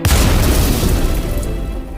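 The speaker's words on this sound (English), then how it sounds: "another explosion followed, louder, deeper, as if the very heart of the ship had groaned" A deep, loud explosion sound effect in an airship battle audiobook, one heavy boom with a rumbling low-end body that rolls and slowly fades, no voice over it.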